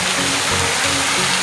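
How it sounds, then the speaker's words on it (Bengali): A waterfall in Italy pours with a steady, close rushing roar of broadband water noise that holds even and unbroken throughout, with no voices over it. "দেখেন ঝর্ণাটা"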